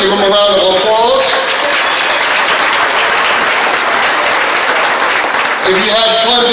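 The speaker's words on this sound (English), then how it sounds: "Give them a round of applause." A charity dinner audience at Opportunity House's Souper Bowl breaks into loud, sustained applause for volunteers and committee members, with a voice over a PA heard at the start and the end.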